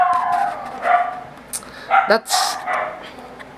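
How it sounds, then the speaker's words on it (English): A dog barks and whimpers in short bursts in the background of a room while someone talks over it. "sorry about the dog, if you can hear that"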